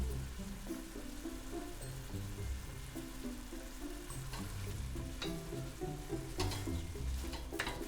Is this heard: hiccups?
no